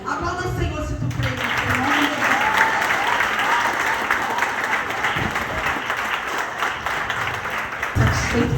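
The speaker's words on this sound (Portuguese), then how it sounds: "Aplauda o Senhor se tu crê." A church congregation claps for the Lord during a Portuguese-language sermon: a voice speaks briefly, then dense, sustained applause fills the room for several seconds and fades near the end.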